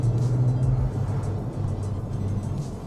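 Porsche 911 997.2 engine holding high revs in second gear while cornering through road junctions, a steady close-up drone with a strong low tone that shifts slightly in pitch as the car takes the bend.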